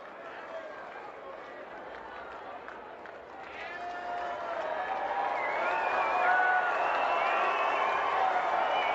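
Baseball stadium crowd at a Monday evening Dodgers at Rockies game, a steady broad roar that swells into louder cheering toward the end, heard from a distance.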